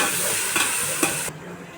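Spices and coriander powder stirred through a cooking pot for chicken biryani, a steady sizzling hiss with a couple of scraping stir strokes, close and fairly loud, cutting off abruptly near the end.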